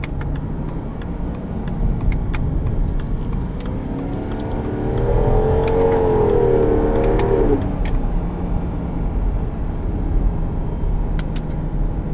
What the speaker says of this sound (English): There is nothing like the sound of a flat six.